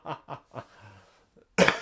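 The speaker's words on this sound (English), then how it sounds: "Pardon me, ugly cough." Three short, rough coughs in quick succession from one nearby person, followed by a faint throat sound and then a louder burst of noise.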